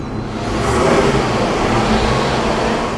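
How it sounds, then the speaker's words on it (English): A vintage Bugatti engine runs steadily at the Concorso d'Eleganza Villa d'Este lakeside show, a close, smooth, sustained mechanical hum and rumble that swells slightly as the car passes, with no voices over it. "Boy, that Bugatti runs perfectly."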